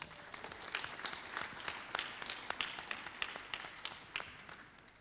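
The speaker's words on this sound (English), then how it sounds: "Let's have one more round of applause" Audience applause at a live onstage conversation event, a steady spread of many clapping hands at moderate level throughout, with no talking over it.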